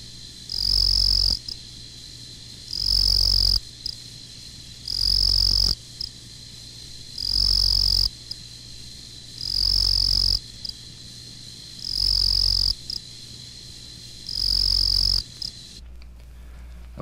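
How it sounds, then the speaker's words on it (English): Confused ground cricket (Nemobius confusus) in woodland gives a regular series of about eight short, bright chirp bursts, evenly spaced and clear against a quiet background. "A ground cricket with a very unique chirp is the confused ground cricket, Nemobius confusus"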